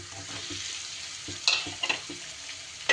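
Spice paste with a spoonful of water stirred in a pan, a soft sizzle under a few scraping strokes of the spoon, close and moderately loud.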